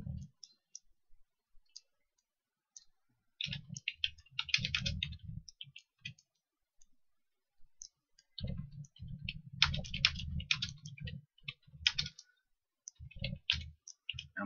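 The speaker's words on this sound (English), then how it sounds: "I'm typing a lot of notes this time" Computer keyboard typing in bursts of rapid clicking during coding notes for a game level, separated by pauses of silence, close and moderately quiet.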